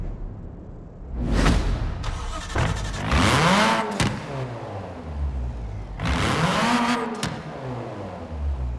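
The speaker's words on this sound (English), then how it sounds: "Let's have a listen of this stock engine." A stock 1990 Nissan Pulsar GTI-R engine in Forza Horizon 4 revs in several sharp bursts, each rising and falling in pitch, with whooshing rushes and brief pauses between, close and loud with no talk.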